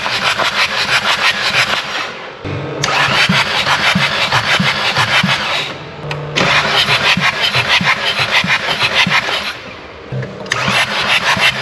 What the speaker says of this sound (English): I can then crank the engine over a few times and we'll see what compression we got.